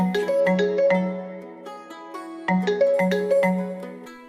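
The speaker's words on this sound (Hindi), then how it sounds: "तभी अचानक काव्या का फोन बजता है।" A phone ringtone plays a bright, tuneful melodic phrase twice in succession, clear and close with no voices.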